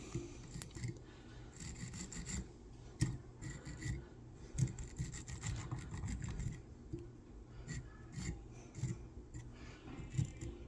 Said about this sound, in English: I like this Stonfo kind of Velcro end brush here, and we'll brush it out.